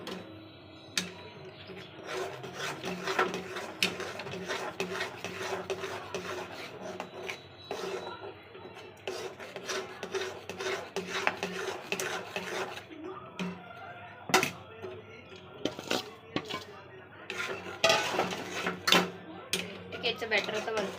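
Cashew powder for kaju katli being mixed quickly in a pan, giving a steady rasping scrape with busy, uneven strokes and occasional sharper clicks throughout.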